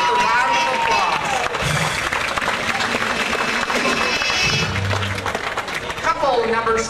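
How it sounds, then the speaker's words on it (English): An audience at a couples dance competition gives a steady round of applause as dancers take the floor, broad clapping and crowd noise running throughout, with an announcer's voice heard over it. "Bring them out with a round of applause."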